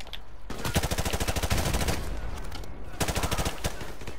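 Automatic gunfire in Call of Duty: Modern Warfare Remastered, with dense rapid bursts that run nearly continuously, loud and close, broken by a short gap before another burst.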